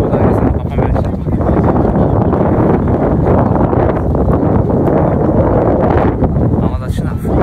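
Strong wind buffets the microphone outdoors on a coastal walk toward a lighthouse in Ireland, a loud constant low roar that fills the whole stretch and masks everything else.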